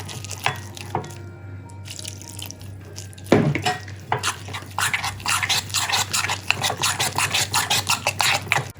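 Spice powder and water stirred into a thick batter for crunchy paneer: a quiet stretch and a single clink, then a run of quick, wet scraping strokes against the bowl, close, with no talk.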